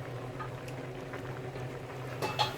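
Raw mango pieces simmering in boiling water in a pot, a soft continuous bubbling with faint pops, quiet and steady with no talk.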